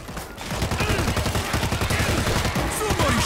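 Rapid, loud automatic gunfire in the World War Z video game, a dense rattling barrage of repeated shots that runs throughout.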